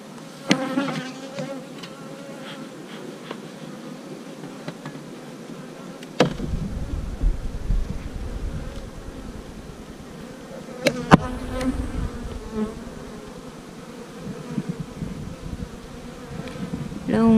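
Honey bees buzz steadily around an open hive during an inspection of brood frames, a dense close drone with occasional sharp knocks and handling clatter.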